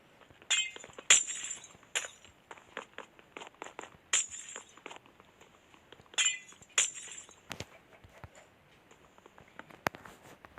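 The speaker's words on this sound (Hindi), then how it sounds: "हमने गिलास तोड़े" Glass items being smashed in a Minecraft-style video game, a series of sharp, bright clinks and shattering bursts spaced irregularly over several seconds, fairly quiet with no talk.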